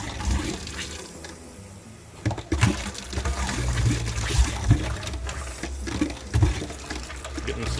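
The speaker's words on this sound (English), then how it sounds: "Getting some water out of the system." An RV sink faucet sputters as air and water spurt out of the plumbing after a gravity drain, with irregular bursts and gurgles against a steady rushing flow.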